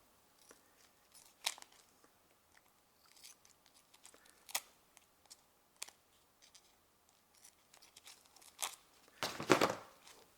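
Scissors snip through tape in a series of sharp, quiet cuts spaced irregularly, ending with a louder crinkling rustle of tape, close and alone without talk.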